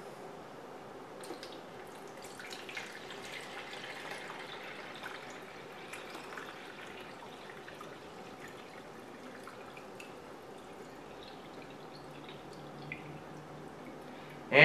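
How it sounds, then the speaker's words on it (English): Water pours steadily into a Mr Coffee iced tea maker, a continuous soft splashing trickle running close by and unbroken for many seconds before a sharp knock at the very end. "So I'm going to take this water and I'm going to pour it in here."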